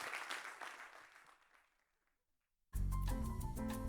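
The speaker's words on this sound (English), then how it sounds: "Let's give our speakers another round of applause" Audience applause for the speakers at an exoplanets and astrobiology session in a theater, clapping that fades to near silence before loud music abruptly cuts in.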